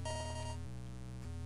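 Electronic beeping from the Zelda Oracle of Ages video game, a Zelda 1 style sound: a fast pulsing high tone with low notes beneath, then two sustained lower tones, steady and loud with no talk.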